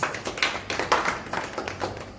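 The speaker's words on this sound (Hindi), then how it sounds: "का हम तालियों के साथ में स्वागत करेंगे।" A large crowd at a prayer gathering applauds in welcome, with dense, continuous clapping that swells and rolls at a steady loud level.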